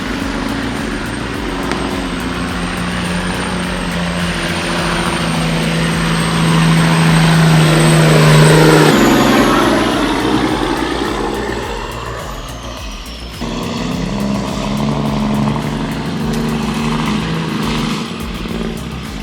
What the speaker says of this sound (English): That poor engine must be absolutely screaming for mercy.